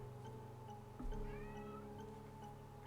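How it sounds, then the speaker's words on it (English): A house cat yowls insistently for its owner, a drawn-out, rising meow standing out over a low steady hum indoors. "One of my cats is yelling for me."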